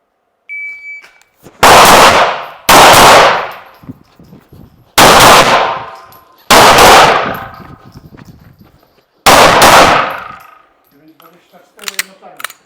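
Five loud, sharp gunshots ring out, two in quick succession and then three spaced ones, during dynamic shooting practice at a shooting range. Faint clatter sounds between the shots.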